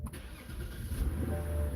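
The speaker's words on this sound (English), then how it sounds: "Let's go ahead and start this car. It's a BMW M Sport." A 2008 BMW E92 M Sport car engine cranks and fires up inside a hot garage, then settles into a steady low idle rumble, close and fairly loud with no talking.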